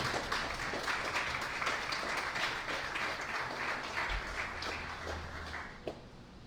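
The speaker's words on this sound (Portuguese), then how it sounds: "Aplauda o nome do Senhor Jesus." A church congregation claps together in praise of Jesus, producing a moderately loud, continuous wash of applause that holds steady and thins slightly toward the end.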